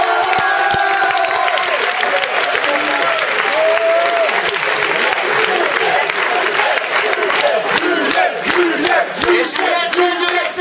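A large audience at a student talent show applauds loudly and steadily, dense clapping sustained for several seconds, mixed with cheers and shouts from the crowd.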